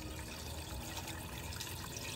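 Water pours steadily into a container to make about two liters of iron sulfate solution for gold refining, a faint continuous trickling rush without speech.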